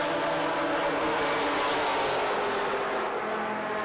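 Improved Production race cars, including a big blue Ford Falcon, roar through turn 3 at a circuit, a dense loud continuous wash of engine noise that sustains throughout.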